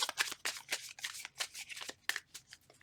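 Tarot cards are shuffled by hand in a rapid series of soft, papery riffles and slaps, close and quiet, with no talking.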